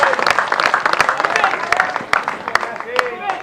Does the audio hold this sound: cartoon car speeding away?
no